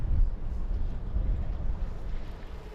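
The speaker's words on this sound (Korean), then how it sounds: "전기 선박에선 나지막이 들리는 모터 소리가 전부." Low, steady rumble of an electric boat's motor running quietly on the water, a soft continuous hum mixed with wind buffeting the microphone, with no voices.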